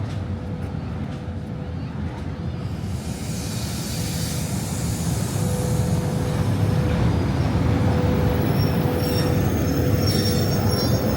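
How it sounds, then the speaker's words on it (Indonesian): A train rumbles into a station in Uzbekistan loudly and continuously, with a rising roar and faint high squeals of wheels, as people talk nearby. "kami masuk ke stasiun dan nunggu kereta kami datang"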